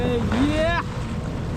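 Motorboat engine revving up on a busy Bali beach as it begins towing a banana boat, a rising whine under strong wind and sea noise, fairly close.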